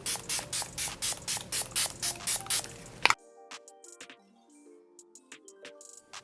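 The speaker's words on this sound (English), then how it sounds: "So today I am going to be using the Milani Make It Last Original Natural Finish Setting Spray" Milani Make It Last Original Natural Finish setting spray is pumped onto a face in a quick run of about ten short, crisp sprays, each followed by a faint click, then quiet with soft handling sounds.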